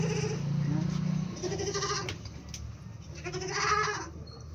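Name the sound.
goat bleating on a cattle farm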